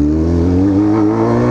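A Honda Hornet motorcycle with a loud aftermarket exhaust idling and revving up close, a rough, loud steady engine drone with slight pitch rises and no voices.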